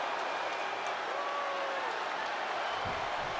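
Steady crowd roar from an arena audience in the wrestling video game WWE 2K25, a constant dense wash of cheering that holds level throughout with no clear talk over it.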